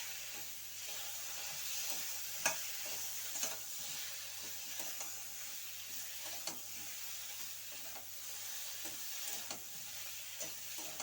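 Cumin and ginger paste frying in a pan, with a steady quiet sizzle and soft scraping stirs at irregular intervals, heard up close and alone.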